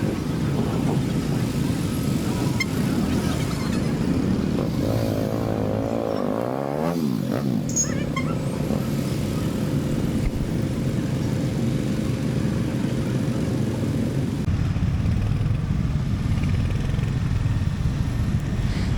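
Engines of a motorcycle convoy rumble steadily as the group rides off together slowly in formation, a continuous droning roar with one passing engine swelling briefly midway, no talk over it.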